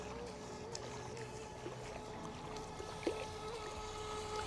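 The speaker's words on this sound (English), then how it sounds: "considering the size of this little boat, it's handling the water absolutely fine." A small Volantex Vector 30 mini RC boat motor drones steadily, with a faint high whine over a low rumble and water noise, with occasional splashes.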